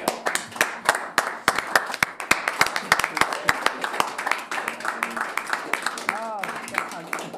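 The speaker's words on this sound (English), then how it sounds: "We have another round of applause." Clapping from a room of people at a county board meeting comes as a dense round of applause, with sharp claps close by and a voice briefly heard near the end.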